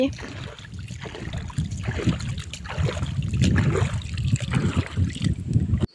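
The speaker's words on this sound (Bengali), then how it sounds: "আমাদের বোটটা ঘুরায় ফেলছি।" A boat turning around in the middle of a baor, an oxbow lake, with a steady low rumble and water wash, gusts of wind buffeting the microphone, and people talking over it throughout.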